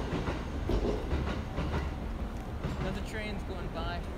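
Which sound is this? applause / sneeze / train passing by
train passing by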